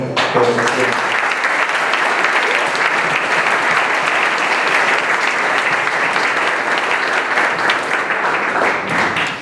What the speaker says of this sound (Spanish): podemos dar un aplauso más fuerte a todas estas personas